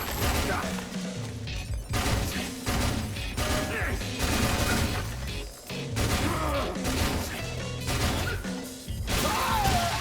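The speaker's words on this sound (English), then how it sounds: "You gotta be careful with the assault rifle." Rapid assault rifle bursts and crashing impacts in the action game Let It Die, loud clustered volleys repeating through the stretch with brief lulls, mixed with game noise and someone talking.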